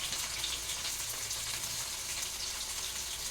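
Sliced onions with curry leaves fry in hot oil, giving a continuous close, even sizzling hiss with no voices.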